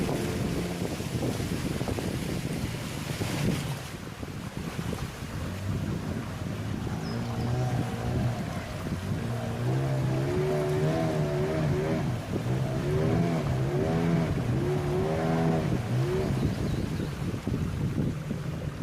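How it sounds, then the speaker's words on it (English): A boat travels upstream along the shallow, pebbly Sungai Tahan river in Taman Negara, a steady engine drone with a wavering tonal hum, wind buffeting and water noise running throughout, no voices. "boat journey then continues on to make its way further upstream of the Sungai Tahan through the shallow pebbly river"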